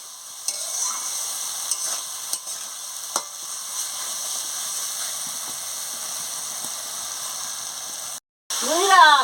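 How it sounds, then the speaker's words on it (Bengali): Rohu fish curry spices and salt sautéing in an oil pan, a steady frying sizzle with occasional stirring scrapes and clinks, close and continuous, with a short dropout near the end followed by a voice. "নুনটা দিয়ে ভালো করে কষিয়ে নিচ্ছি"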